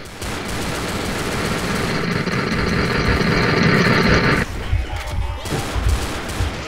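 Loud, continuous gunfire and rattling from the zombie shooter game Left 4 Dead fills the clip, ending in a few scattered bursts and thuds.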